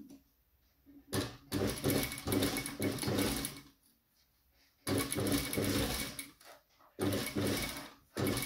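A sewing machine stitches around a neckline in three bursts of rapid, close, mechanical whirring separated by short quiet pauses, with no voices.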